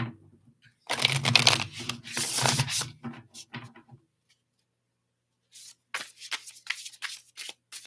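A close, loud riffle shuffle of an oracle deck lasting a couple of seconds, then a pause and a few softer flicks of cards being handled.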